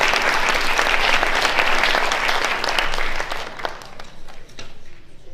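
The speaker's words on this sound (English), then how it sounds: "a round of applause for our teachers who are in there" Applause for teachers at a teaching workshop session, a room full of people clapping loudly and steadily for about three seconds before thinning into scattered claps that fade out.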